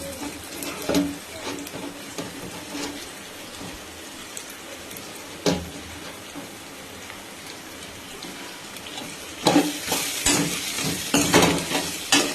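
Thick mashed potato is stirred in a pan with steady scraping and soft squelching, plus a few louder clanks against the pan and a busier burst near the end, with no talking.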